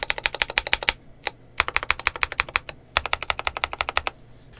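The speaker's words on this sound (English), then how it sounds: "spacebar could use a little tuning" Close keystrokes on a Monsgeek M3W mechanical keyboard with tactile switches, including spacebar presses, come in quick runs of clicky taps separated by short gaps and a lone stroke, with no talking.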